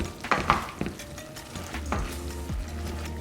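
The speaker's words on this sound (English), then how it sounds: "And we're gonna stir a little bit more. Just give a little stir to this." Onions, rajas and bacon frying together in a pan for carne en su jugo, stirred with a few scraping clinks of a spoon over a continuous close sizzle, with no talking.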